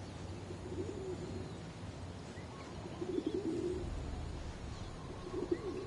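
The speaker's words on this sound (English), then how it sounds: "Pigeons?" Pigeons coo in a World War II sniper video game, their soft rounded calls recurring in short bursts over a steady background ambience.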